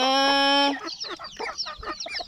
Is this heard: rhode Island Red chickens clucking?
yes